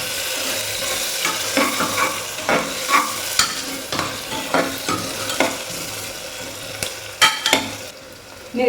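Onions sautéing in a pan for a mutton curry, a steady close sizzle broken by frequent stirring scrapes and clinks of a utensil against the pan, with no talking.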